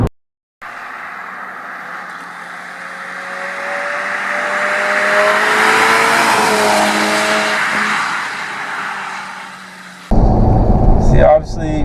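A 2016 Audi TT's turbocharged engine builds from quiet to a strong, rising roar while accelerating along twisty roads, easing off near the end before a burst of wind and cabin noise, with a brief voice at the close.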